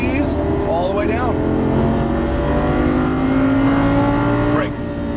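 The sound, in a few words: Lamborghini Gallardo Superleggera accelerating on track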